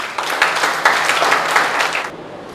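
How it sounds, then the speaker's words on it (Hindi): An audience at a network marketing leadership training session claps loudly and steadily, a dense burst of applause lasting about two seconds before cutting off abruptly. "इन सब के लिए आप दिल खोल के ताली बजा दीजिए आप।"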